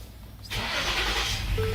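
A 2013 Ford Edge engine cranks and catches about halfway through, jumping from a low hum to a steady, close idle rumble that holds to the end.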